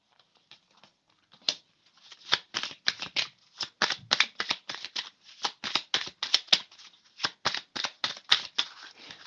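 Tarot cards are shuffled by hand during a card reading, a close run of crisp riffling bursts in a fairly regular rhythm, starting sparse and becoming denser, with no voices.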